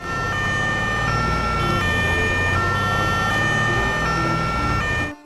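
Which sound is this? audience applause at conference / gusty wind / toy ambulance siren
toy ambulance siren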